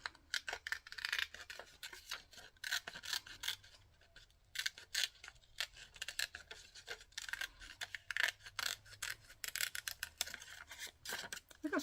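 Scissors cut closely around a paper character for a handmade card, giving quiet, rapid snipping in irregular bursts, close up and alone.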